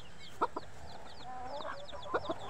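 A brooding hen sits with newly hatched chicks on a farm, giving low soft clucks while the chicks make thin high peeping chirps, all fairly quiet and close, with no voices.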